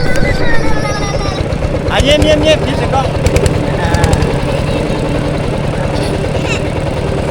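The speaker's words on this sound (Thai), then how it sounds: "บรรยากาศยามแลงขี่รถไถนะเพิ่นก็" A two-wheel walking tractor's engine chugs steadily through an evening ride in a rural Lao village, a close, continuous rumbling putter with voices talking over it.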